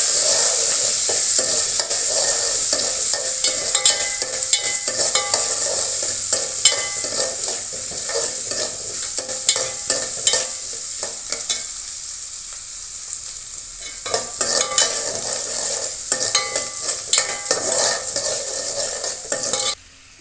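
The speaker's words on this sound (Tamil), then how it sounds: "வெங்காயம் வதங்கிச்சு." Onions sautéing in a pan with dried red and green chillies for brinjal kosumalli, loud continuous sizzling with frequent spoon scrapes and clatter against the pan, briefly quieter midway; no one speaks.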